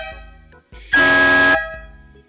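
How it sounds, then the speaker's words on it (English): A single loud air horn blast, about half a second long, sounds close by with a bright, brassy tone, from air horns for a race mower. "this is for some air horns that I'm gonna mount on the race mower"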